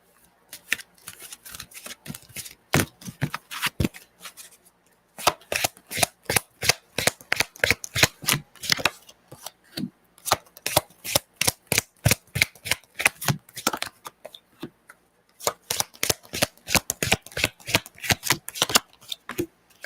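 Playing cards being shuffled: repeated crisp riffling bursts in quick rhythmic runs, separated by short pauses, close and fairly loud with no talk over them.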